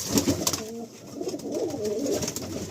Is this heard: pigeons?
yes